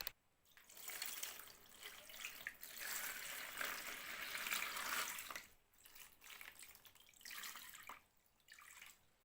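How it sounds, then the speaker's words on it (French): Water pours into a plastic box used as a terrarium for a Vietnamese red crab, a steady close splashing stream that stops briefly, then returns in shorter bursts. "j'ai mis l'eau à je sais pas combien de centimètres, mais à peu près la hauteur du crabe"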